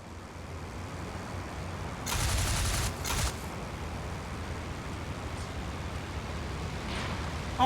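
Short bursts of aircraft machine-gun fire in a flight combat game, two distinct bursts around two and three seconds over a steady low engine drone, with no voices.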